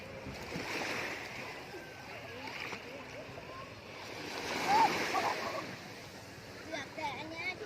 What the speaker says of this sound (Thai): แต่อันนี้ที่เป็นคลื่นมันอยู่ประมาณนี้